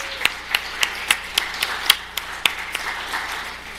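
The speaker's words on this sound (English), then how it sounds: "Give them all a round of applause." A small audience at a Python meetup gives a round of applause for the panel guests, producing sparse, distinct hand claps at a moderate pace over a low room hum. The claps thin out and soften near the end.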